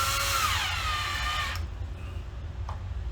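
A power drill drives a screw into a ceiling during a crack repair, a loud close whirring whine for about a second and a half before it cuts off, leaving quiet room noise.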